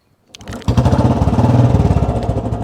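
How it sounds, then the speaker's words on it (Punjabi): A Royal Enfield Electra Bullet motorcycle engine cranks and catches, then settles into a loud, close, rhythmic thumping idle. "ਆਪਾਂ ਹੁਣ ਆਪਣਾ ਬੁਲਟ ਸਟਾਰਟ ਕਰ ਲੱਗੇ ਆ"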